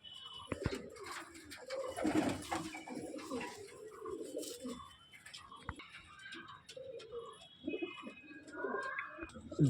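A breeding Kalpora pigeon with clipped wings coos softly in a loft, low, rolling calls rising now and then over faint background clatter and ticking; quiet and fairly close.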